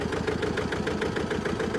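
An Eicher 330AS farm tractor's diesel engine idles up close, a steady, rapid, even chugging pulse that stays at constant loudness with no other sounds.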